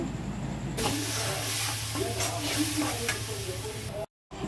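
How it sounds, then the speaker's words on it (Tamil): Steady, loud sizzling and frying of ginger garlic paste and ground tomato being sautéed for home-style mutton curry, with occasional stirring scrapes, close up, ending in a brief cut of silence. "இஞ்சி பூண்டு வந்து நல்லா பச்சை வாசனை போகிற வரைக்கும் நல்லா வதக்கிட்டு அரைச்சி வச்ச தக்காளியை வந்து அதில் அது கூட ஆட் பண்ணிக்கிட்டேன்"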